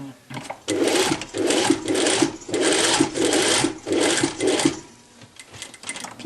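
A sewing machine stitches a 1 cm seam on a tie in quick bursts of whirring and clattering needle strokes, loud and close, with brief pauses between runs.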